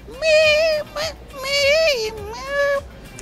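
A human voice imitates a hungry kitten with several high, wavering mewing cries in quick succession, fairly loud and close.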